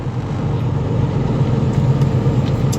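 A truck rolling down the road, heard from inside the cab as a steady, loud low engine drone and road rumble, with no talk.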